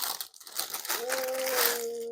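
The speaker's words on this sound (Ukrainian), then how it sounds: "Так, шумить пакет." A plastic gift bag rustling and crinkling at close range, with a few sharp crackles, while a voice is heard briefly over it.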